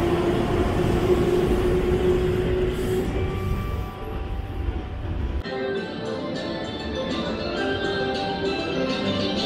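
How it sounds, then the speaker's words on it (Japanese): Keihan Main Line commuter train rumbling out of Kyobashi station, a steady rolling drone with faint tonal motor whine that drops in intensity midway, then a quieter platform ambience as it moves off. "7000系の茅島駅の普通電車が一番ホームから発車します。"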